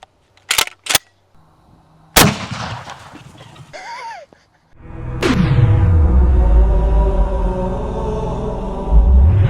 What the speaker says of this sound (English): Moving up to the 12 gauge slug.